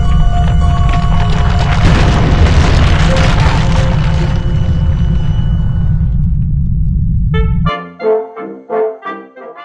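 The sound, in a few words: Tsar Bomba nuclear bomb explosion, 1961 test footage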